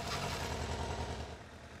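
A Kawasaki ZRX 1200 motorcycle engine idles in a brief, steady, low rumble, faint and continuous.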